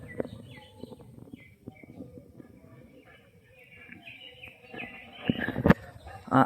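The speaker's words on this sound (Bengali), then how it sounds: "পাখিদের কলকাকলি শুনতে কিন্তু ভালোই লাগতেছে" Birds chirp and call intermittently on a winter morning in a rural village, fairly faint and distant against quiet surroundings, with a few louder rustles and knocks toward the end.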